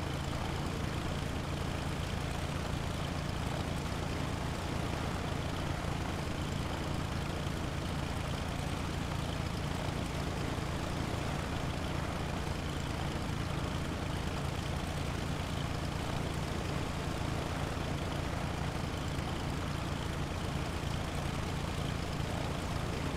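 A light aircraft's engine idles during descent on a VFR flight over the Serra da Canastra region of Brazil. A steady, droning cabin hum with broad noise holds at an even level throughout, with no talk.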